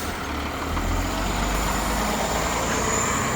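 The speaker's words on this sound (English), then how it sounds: "we'll wait for this bus to depart and we'll get the nice acceleration sound" A 2008 Nova city bus on Montreal STM route 356 pulls away at night, its engine a loud, steady, close drone with a deep low rumble that holds without break through the moment.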